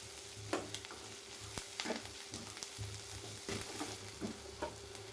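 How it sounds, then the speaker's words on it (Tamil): Onions sautéing in a pan for tomato onion chutney: a steady low sizzle with repeated scraping stir strokes of a spoon across the pan, close and moderately quiet, with no talking. "வெங்காயத்தை நல்லா வதக்குனிங்கன்னா பொன்னிறம் ஆகிற வரைக்கும் வதக்கிட்டே இருக்கணும்."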